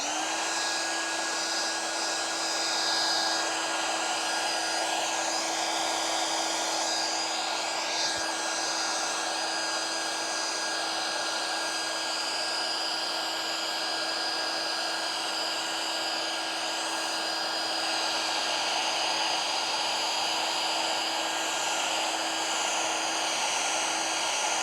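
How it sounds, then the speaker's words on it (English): A hair dryer blows continuously for about 25 seconds at steady, loud strength with a constant whine, used to dry paint on an art project on a snowy day, with no talking. "what I'm going to do is blow dry a little more here"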